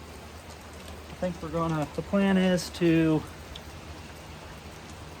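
Rain patters steadily on a leaky barn while people talk nearby, the soft hiss of falling drops continuing under and after the voices.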